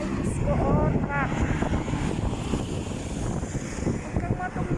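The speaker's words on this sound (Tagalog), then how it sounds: "Ang hangin. Grabe," Strong wind buffets an outdoor car wash, a constant heavy roar over the microphone, with people talking through it.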